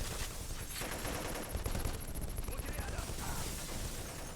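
Rapid bursts of gunfire from a shooting video game ring out steadily throughout, dense and loud, with a players' voice chat faintly mixed in beneath the shots.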